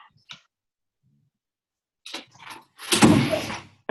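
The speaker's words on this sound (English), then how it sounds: "I'll close the door." A door is closed indoors: a faint click, then a pause, a few short scuffing sounds and a fuller, louder closing thud with a brief rattle, with no one speaking.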